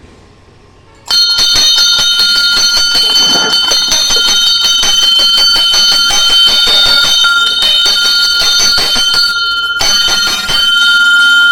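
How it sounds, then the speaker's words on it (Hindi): At a Shiva shrine near Rishikesh, a metal bell is struck again and again in rapid succession, ringing loud and close with bright lingering tones for about ten seconds after a quiet start. "घंटी बजा करके देखते हैं उनका रिएक्शन क्या होगा।"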